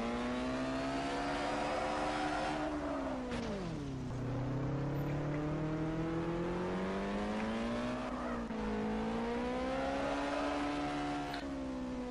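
A Chevrolet Corvette ZR1 engine revving in a street drifting video game, rising and falling in pitch through repeated acceleration and gear shifts, loud and continuous with no talk.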